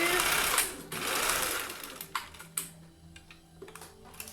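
A sewing machine stitches a seam in a fast, steady run, then stops, followed by sharp clicks and clacks of fabric handling and thread cutting, close and clear.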